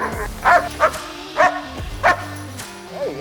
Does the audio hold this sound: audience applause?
no